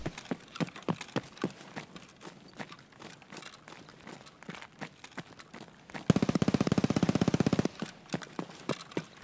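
Scattered single gunshots crack at irregular intervals in the video game Escape from Tarkov, then a fast burst of automatic fire rattles for about a second and a half before single shots resume.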